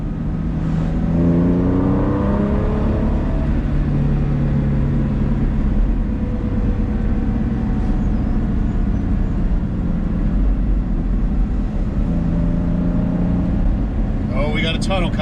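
A 2000 Porsche 996 Carrera 2 Cabriolet's exhaust drones steadily on the road, heard from inside the car with a tunnel ahead, its pitch rising and falling as the engine pulls through the gears.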